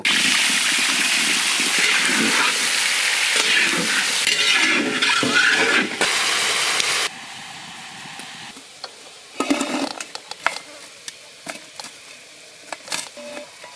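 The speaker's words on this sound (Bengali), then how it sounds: "সাদা তেল, আলু হালকা ভেজে নেব।" Potatoes fry lightly in white oil in a Bengali village kitchen, a loud sizzle for several seconds that drops away, followed by scattered utensil clinks and stirring taps.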